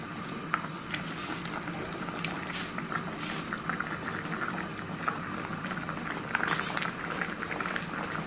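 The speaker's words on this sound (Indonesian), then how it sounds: "Kita mau merebus daun pepaya. Nah, kita rebus dulu daun pepayanya." Papaya leaves simmer in lightly salted water, a continuous close bubbling boil with soft popping and occasional brighter splashes throughout.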